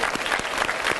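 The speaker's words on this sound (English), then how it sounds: "Let's give her a round of applause." Students gathered in a school classroom clap together in a brief, dense burst of applause, close and steady for about a second.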